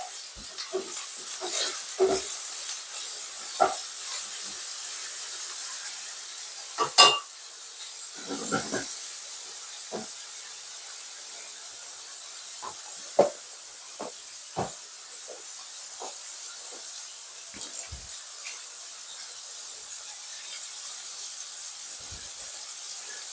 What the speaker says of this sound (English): I'm going to add a bit of butter to it. Add some butter in.